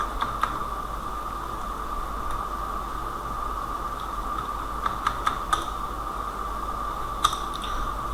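Sparse keystrokes on a computer keyboard, an answer typed into a Word file, scattered single clicks and small clusters over a steady background hiss and hum, faint and close.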